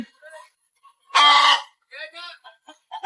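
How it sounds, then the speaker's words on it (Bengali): Laying hens at an egg farm with a belt egg-collection system give a brief loud burst of clucking, close by, among scattered quieter bird calls. "এগুলো হলো মুরগি"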